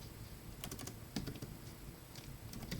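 Typing on a computer keyboard while writing Python code makes quick, soft clusters of key clicks over a steady background hum, close and faint, with no talking.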